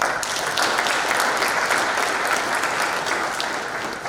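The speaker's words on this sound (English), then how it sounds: "Can we please still give our guest lecturer another standing round of applause?" Sustained applause from a lecture audience on their feet at the National Defence College, dense and steady clapping filling the hall for several seconds and fading slightly at the end.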